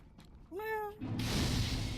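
A house cat gives one clear, rising meow close by, followed by a broad rustling, hissy noise, with no talking.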